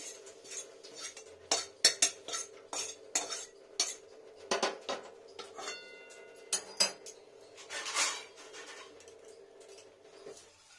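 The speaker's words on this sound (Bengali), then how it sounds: "শাকটাকে ঢেলে নিই, একটা থালার মধ্যে ঢেলে নিই শাকটাকে" Cooked radish greens are tipped from a pot onto a plate, with bright clinks and scrapes of metal utensils against cookware in short irregular bursts, close by and without speech.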